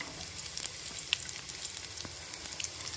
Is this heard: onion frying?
yes